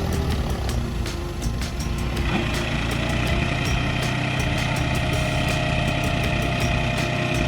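A heavy 150-horsepower tractor engine roars continuously and loudly, its pitch rising partway through as it revs, with no talking.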